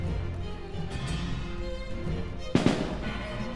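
A fire spell in the video game ToME: Embers of Rage bursts with a sudden crackling whoosh, loud but short, over steady game music.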